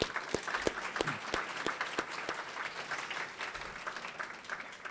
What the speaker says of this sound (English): let's give another round of applause for all the award winners